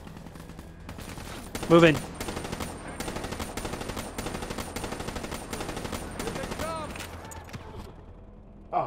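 Rapid bursts of automatic gunfire from a Call of Duty: Black Ops 3 firefight rattle on steadily for several seconds, with a louder shot cluster near the start and a short spoken command over the shooting.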